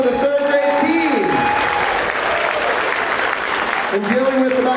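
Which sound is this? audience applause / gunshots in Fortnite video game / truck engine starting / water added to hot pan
audience applause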